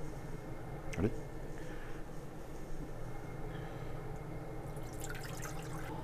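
Two cups of water are poured into a pan in a home kitchen while making gyudon, a short pour around one second with a quickly rising fill tone, over a steady low background hum.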